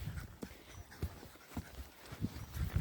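Horses walk in soft, irregular hoof thuds, fairly close but faint, with low rustling in between and no talk.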